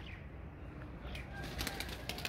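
Faint wing flapping and fluttering of pigeons taking off, soft and somewhat distant over a steady outdoor background hiss.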